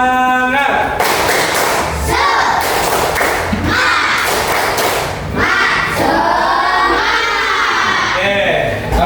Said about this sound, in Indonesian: Ya, coba tepuk semangat.